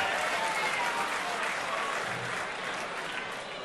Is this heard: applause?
yes